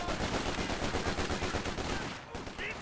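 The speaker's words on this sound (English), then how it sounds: "Interesting timing for a mortar." Dense, rapid gunfire and mortar blasts from a Company of Heroes 2 battle, rattling continuously at close range for most of the stretch before tapering off near the end.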